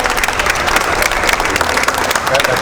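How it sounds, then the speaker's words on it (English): A crowd applauds steadily at an outdoor Juneteenth flag-raising ceremony in Cincinnati, with dense, even clapping that holds at full strength for the whole stretch. "So let's give Jan Michelle an applause for showing grace under pressure last night"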